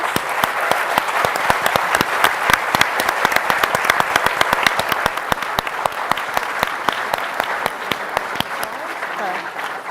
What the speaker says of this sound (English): I would like to give our panel a round of applause.